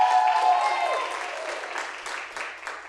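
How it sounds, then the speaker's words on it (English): A board meeting audience gives a round of applause in a meeting hall, a broad, steady patter that starts fairly strong and slowly fades over about three seconds. "Could I get a round of applause for that?"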